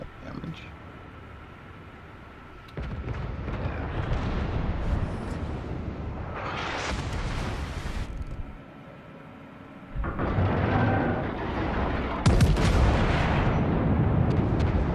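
Naval gun salvos and shell impacts in a World of Warships battle, heavy booming bursts separated by quieter gaps, several loud blasts in sequence.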